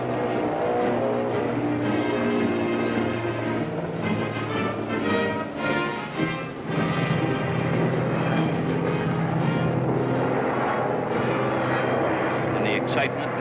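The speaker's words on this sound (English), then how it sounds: "crewmen cheered as one plane after another screamed down the swaying runway." Loud propeller engines of WWII aircraft roar continuously as planes take off one after another down a swaying carrier deck runway, a steady droning wall of sound with a narrator speaking over it.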